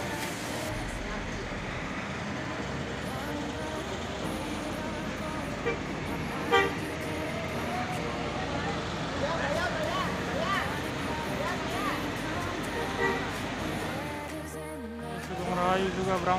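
Efisiensi intercity bus pulling into Giwangan bus terminal from Purwokerto, its engine rumbling amid busy terminal traffic noise, with horn toots and people talking around it, growing louder toward the end.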